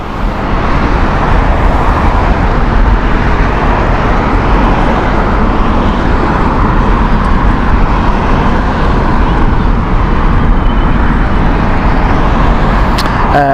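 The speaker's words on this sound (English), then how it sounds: "Delta Salt Lake City inbound next. This is the Airbus A330neo." A Delta Airbus A330neo arriving at Heathrow makes a loud, continuous broadband roar that holds steady throughout, like a jet passing close overhead on approach.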